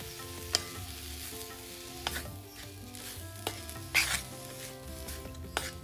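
Pumpkin leaf and flower thoran being stir-fried with salt in a pan, a steady sizzle under repeated scraping and stirring strokes, with a few sharper utensil clinks against the pan, close and alone.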